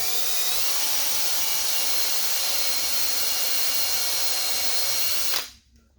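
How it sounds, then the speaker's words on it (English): A step drill bit grinds steadily through an acrylic Cessna 140 panel with a loud, high whine, then cuts out abruptly near the end. "So now we're going to drill the hole all the way through."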